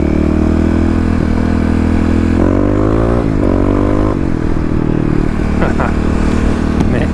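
A Kawasaki KLX351 EFI motorcycle engine runs loud and close, its pitch rising and falling through several throttle blips over a steady idle with some mechanical clatter.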